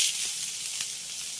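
Hot oil sizzles steadily in a pan as half a teaspoon of fennel seeds fries, a continuous soft hiss with a faint crackle, no voices.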